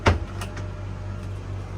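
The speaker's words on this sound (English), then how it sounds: "Huge big pantry. Pulls right out." A pull-out pantry cupboard in a converted bus kitchen being opened, a single close knock and brief slide at the start, followed by a steady low hum of background noise.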